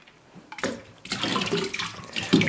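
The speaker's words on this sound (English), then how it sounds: "Also gonna pour in some raw apple cider vinegar." Raw apple cider vinegar pours steadily into ice water, a continuous splashing gurgle that starts after a brief pause and runs on close by.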